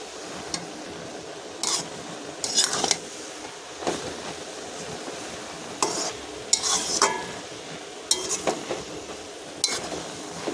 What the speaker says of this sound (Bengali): থানকুনি পাতাগুলো দিয়ে আমি ভালো করে নাড়াচাড়া করে নেব